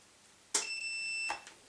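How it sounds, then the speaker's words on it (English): An autoranging multimeter's continuity buzzer, used for central heating testing, gives one steady electronic tone lasting under a second, starting and stopping abruptly in a quiet room. "A buzzer for giving you continuity."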